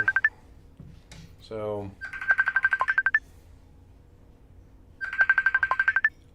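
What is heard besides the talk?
messenger call ringtone ringing in the background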